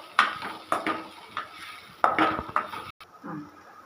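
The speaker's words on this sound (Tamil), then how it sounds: "கைஸ் நல்லா அப்படியே கிண்டணும்." Egg masala stirred in a pan with a spoon, giving repeated close metallic scrapes and clinks against the pan in an irregular rhythm, with no talk.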